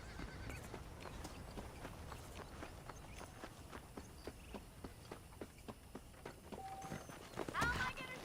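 Saddled horses' hooves clip-clop at a walking pace on a ranch in Red Dead Redemption, with a steady rhythm of close hoofbeats, a horse whinnying briefly near the end, and someone talking over it.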